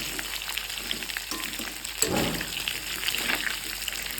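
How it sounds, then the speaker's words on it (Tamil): Raw mango pieces sauté in oil for a sweet pachadi, a close, steady sizzle with stirring and a brief louder burst of frying near the middle. "மாங்காயை போட்டு நல்லா இந்த எண்ணெயிலேயே நல்லா வதக்கி விட்டுருவோம்."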